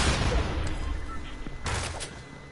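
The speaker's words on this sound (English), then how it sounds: "There's a person shooting at me." Video game gunfire from a person shooting, a run of sharp cracks and a couple of louder bursts toward the end over a noisy, rumbling background.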